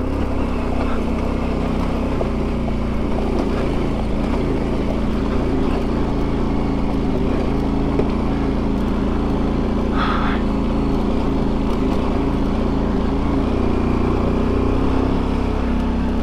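A motorcycle drones steadily while riding at the top of first gear on a Colorado adventure ride, the engine holding a constant, close, humming pitch throughout without any talk.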